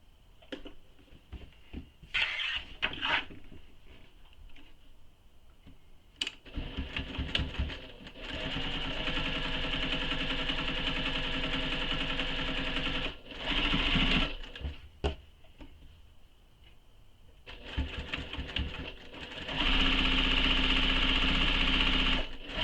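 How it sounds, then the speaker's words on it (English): A sewing machine runs a second row of stitching along a satchel, a close mechanical whir in several bursts, some short and stuttering, others long and steady, separated by quiet pauses. "I'm going to sew the second row of stitching now, because there are 2 rows of stitching for this."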